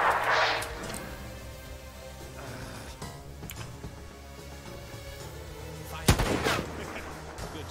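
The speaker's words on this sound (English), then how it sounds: "That gun sounds powerful." Heavy gunfire from a powerful weapon in the tactical video game Achtung! Cthulhu Tactics, a loud booming shot near the start and another sharp blast around six seconds, over a rumbling battle background.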